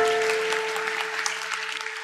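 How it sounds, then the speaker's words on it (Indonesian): A church congregation claps together in steady, dense applause during a sermon, a sustained wash of hand claps with a held organ-like tone underneath. "Kasih tepuk tangan untuk Tuhan Yesus."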